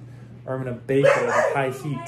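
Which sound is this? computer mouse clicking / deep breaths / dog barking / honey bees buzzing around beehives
dog barking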